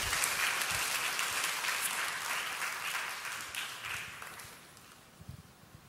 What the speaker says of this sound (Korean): 우리 큰 박수로 한번 청해서 듣도록 하겠습니다